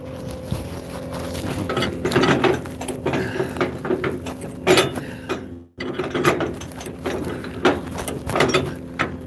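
Ratchet winch on a low-profile flatbed trailer being tightened with a winch bar, giving repeated clicking, clanking mechanical ratchet strokes up close, with a brief break midway.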